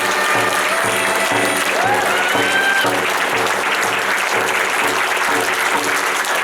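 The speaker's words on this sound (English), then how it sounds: "so please give them a round of applause" A convention crowd applauds sponsors with loud, sustained clapping from many hands, steady and close, with a few whoops and voices mixed in.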